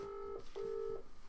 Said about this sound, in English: why is Auntie Tina not answering the phone?